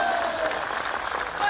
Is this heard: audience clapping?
yes